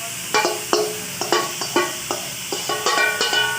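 Onions, tomatoes and green chili sizzle in a pan, cooking for a bitter gourd dish, with a string of sharp spoon taps and scrapes against the pan over a soft background hiss.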